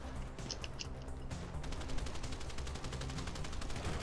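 Gunfire in Grand Theft Auto V: scattered shots give way to a steady, rapid automatic burst that runs loud and continuous for several seconds, with no talk over it.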